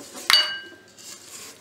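A spatula scrapes the sides of a stand mixer bowl full of birthday cookie dough, giving one sharp metallic clink against the bowl followed by faint scraping.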